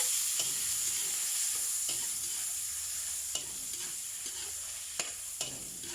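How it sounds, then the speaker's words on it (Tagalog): Squid balls sizzle steadily in a hot pan while a utensil stirs them, with sharp scraping clicks at irregular intervals over a continuous frying hiss. "Squid balls, ito lutuin na natin mga lahat yan."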